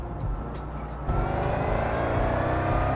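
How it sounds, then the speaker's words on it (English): Car engine in the racing game TDU Solar Crown, a steady loud drone with a faint high supercharger whine riding over it, continuous and close, with no talk. "I thought they would make the supercharger sounds on some cars louder"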